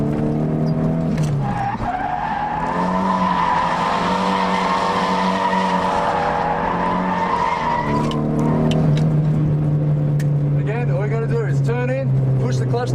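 A car drifts under handbrake, engine revving hard as the tyres skid and squeal in long sustained screeches, loud and close, with an instructor's voice talking over it.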